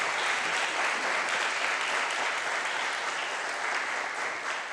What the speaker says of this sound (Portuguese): podemos aplaudir o Deus que faz a obra?